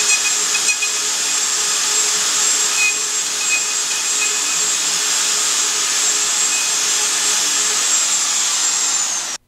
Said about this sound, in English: The Festool MFK router is perfect for cutting latch and strike mortises.